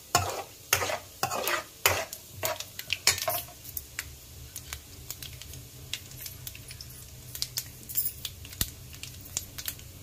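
Chana dal frying and being stirred in a pan for a mixed greens stew, with steady sizzling under repeated scraping and clinking spoon strokes against the pan, busier at first then settling into a quieter sizzle.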